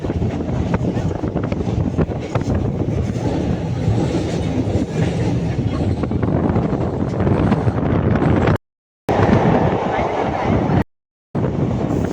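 A train rolling slowly along the track with steady rumbling and clickety-clack rhythm, heard close with wind buffeting the microphone, on a journey from Nagpur toward Katra, Jammu.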